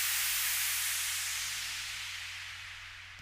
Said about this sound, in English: I have a white noise downshifter.